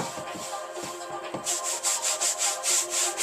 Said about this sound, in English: Yeah, see, I kind of scrub that out a little bit, like that. Do a little bit of a wipe.